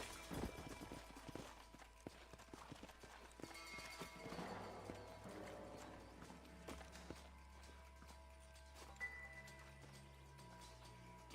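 Horses in the Western video game Red Dead Redemption clip-clop at a walk, with hoof falls close and irregular as they slow to a halt, and a faint metallic clink of tack.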